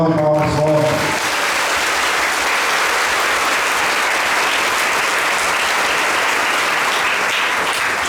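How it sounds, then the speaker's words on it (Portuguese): A church congregation gives a loud, sustained round of applause for a new parish priest at his installation Mass, opening with a short burst of voice and continuing as dense, even clapping throughout. "Salve de palmas fortes"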